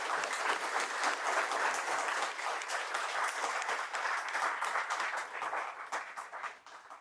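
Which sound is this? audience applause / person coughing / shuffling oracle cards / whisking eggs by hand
audience applause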